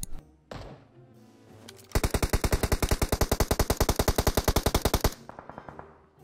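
Sustained rapid automatic gunfire in a battle royale video game match, a loud, evenly spaced burst of about three seconds after a few quieter scattered sounds, then fading game ambience.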